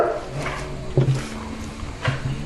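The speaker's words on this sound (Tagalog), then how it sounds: "Maingay yung aso ko." A pet dog barks in a few short bursts, spaced about a second apart, close by, with rustling from someone repotting a palm plant beside it.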